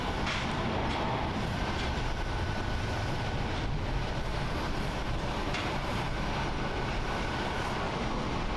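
A Japan Airlines airliner departs Haneda International Airport in Tokyo bound for CTS, its jet engines producing a loud, continuous broadband roar that holds steady throughout.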